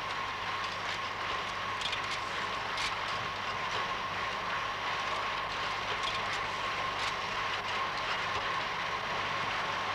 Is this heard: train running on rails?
yes